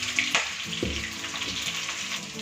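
Oil sizzles and crackles steadily in a hot pan as rohu fish fries, close up, with occasional louder pops.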